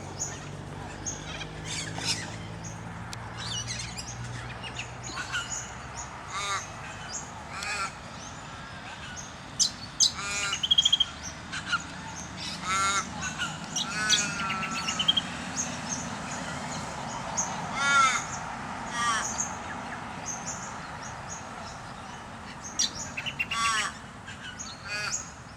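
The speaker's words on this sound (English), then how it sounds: "Crow making a din." Crows cawing loudly and repeatedly near a roadside in Perth, with ibis and cockatoos around, harsh calls coming in irregular bursts with other birds chirping in the background and someone speaking briefly.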